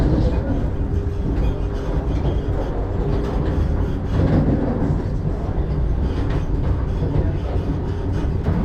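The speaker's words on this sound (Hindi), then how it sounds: "हम लोग की ट्रेन रायपुर जंक्शन से डिपार्चर ले रही है।" Durg–Visakhapatnam Vande Bharat Express pulling out of Raipur Junction, a continuous loud rumble and rattle of the carriage heard from on board, with no talk.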